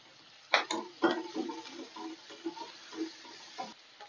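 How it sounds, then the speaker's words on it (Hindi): Onion and crushed garlic cloves sauté in a pan for aloo gobi. A quiet background hiss is broken by a series of distinct spoon scrapes and taps as the mixture is stirred. "ये देखिए हमारा प्याज और लहसुन अच्छे से सॉटी होने लगा है"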